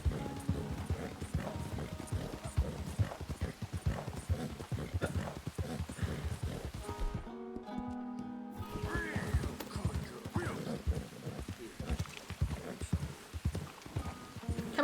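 Horse hooves clip-clop steadily in Red Dead Redemption 2, a dense rhythmic run of close, fairly loud hoofbeats that breaks off briefly near the middle before the galloping resumes.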